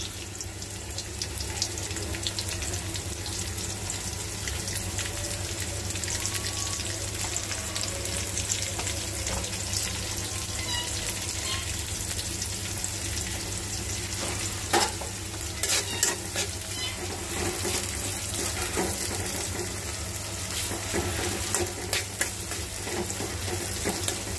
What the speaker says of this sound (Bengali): একটু রসুন দিয়ে দিলাম, পেঁয়াজ দিয়ে দিলাম